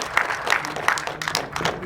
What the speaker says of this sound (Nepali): म ताली बजाएर तपाईँलाई स्वागत गर्न चाहन्छु।